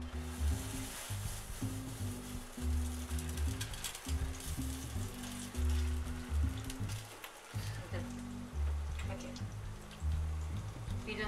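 Beef cutlets frying in a pan, a continuous loud sizzle and crackle like rain on a surface, with a dull background hum pulsing underneath.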